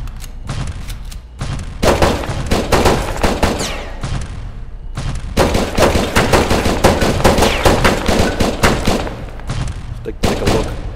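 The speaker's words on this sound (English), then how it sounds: "look at all the bullets flying out of his gun" Gunfire in the survival video game Next Day Survival: a rapid stream of sharp shots rattles on almost continuously for eleven seconds, loud and close, broken by two short pauses.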